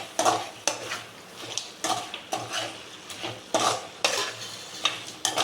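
Quail pieces turned through thick masala in a pan, rhythmic scraping spatula strokes about every half second over a low sizzle, close and fairly loud, no voices.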